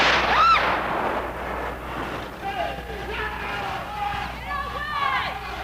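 Police tear gas canisters fired during a tense confrontation, heard as a loud hollow launch thump followed by hissing and distant shouts, with a crowd's babble throughout.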